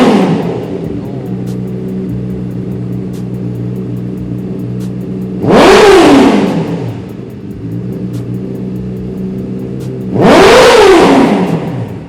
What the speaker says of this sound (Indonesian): Oke, kita akan coba engine start dulu.